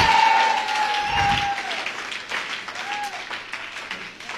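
A church congregation applauding the Lord, a burst of clapping and crowd noise that tapers off, heard close and loud with voices in the room.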